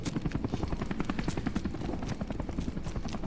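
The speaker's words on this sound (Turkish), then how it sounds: "Şu helikopter bizden miydi lan giden?" A helicopter in the video game Modern Warfare Remastered, a loud, steady rotor thumping with rapid rhythmic chops throughout.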